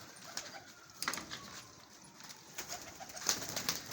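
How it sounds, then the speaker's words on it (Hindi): Pigeons at a pigeon club give soft, close coos with a few faint wing flutters and rustles in a quiet room, and there is no talk. "कबूतर है भाई"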